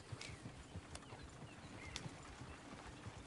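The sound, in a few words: horses in the video game Red Dead Redemption 2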